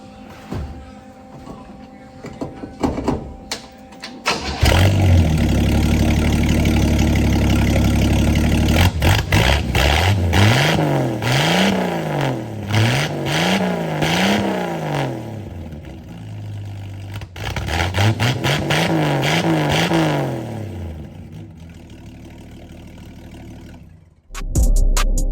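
A rat rod car with a freshly installed exhaust cranks over and fires up, then settles into a rumbling idle punctuated by several rising and falling revs before cutting off near the end, loud and close.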